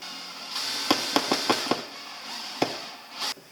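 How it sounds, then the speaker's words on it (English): Screws driven by hand or driver into a camper van kitchen cabinet from the inside: a run of sharp, close clicks and knocks in quick succession, then a lone knock and a brief whirring burst near the end. "So I'm actually going to go on the inside of the cabinet here and screw these in."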